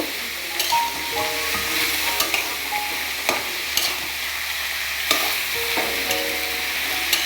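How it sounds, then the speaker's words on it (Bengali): Food frying in a pan is stirred, a continuous loud hiss and sizzle with regular scraping strokes of a utensil every second or so, close by and without speech. "এবার ভালো করে নাড়াচাড়া করে নেব।"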